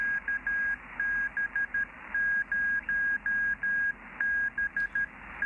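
Morse code tones received on a ham radio rig during a portable QRP park activation, a steady single-pitched beep keyed in short and long bursts, fairly loud over a faint hiss, with no talking.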